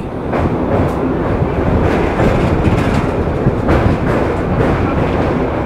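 A local train on the Howrah–Digha line crosses the Kolaghat bridge over the Rupnarayan river, heard from on board as a loud, continuous rumble with rhythmic wheel clatter and no voices.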